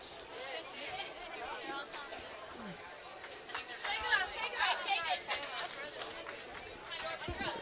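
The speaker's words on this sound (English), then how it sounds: "Appears the crowd is closing in on me" Steady crowd chatter fills Huntsville Lanes during a bowling tournament, a continuous murmur of many voices with occasional louder calls and faint clatter.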